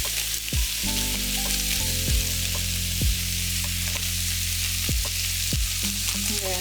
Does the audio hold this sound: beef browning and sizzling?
yes